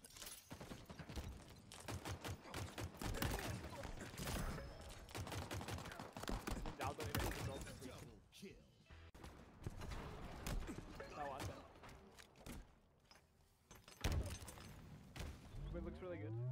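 Rapid bursts of in-game gunfire from Halo Infinite, dense and repeated throughout, with voices talking over the shooting and a few louder shots near the end.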